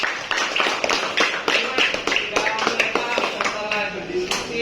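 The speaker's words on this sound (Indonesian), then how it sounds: "tepuk tangan semuanya" A group in a teacher supervision session claps hands in loose, uneven bursts, with voices mixed in among the claps.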